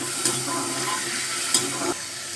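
Potato yakhni being stirred in a pan with crushed-garlic water, a wet sizzling and sloshing texture punctuated by a couple of quick scraping strokes, close and steady with no voices.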